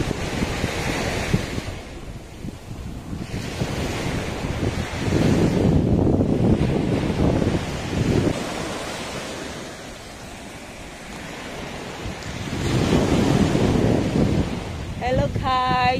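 Waves wash along the seashore at a barangay beach, with surges swelling and receding over heavy wind rumble on the microphone, near and loud, with no talk.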